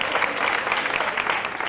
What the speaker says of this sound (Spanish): Un aplaudiment pel Paco, sisplau.